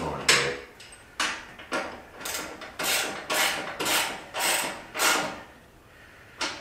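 A ratchet wrench clicks in repeated short bursts while motorcycle shock bolts are snugged up, about eight close, crisp ratcheting strokes with brief pauses between them.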